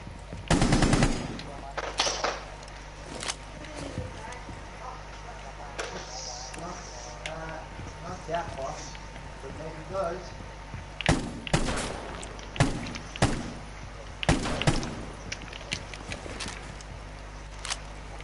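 Several heavy shotgun blasts in Fortnite, loud close bursts spaced irregularly over a steady game hum, with other gunfire cracks between them and players talking quietly.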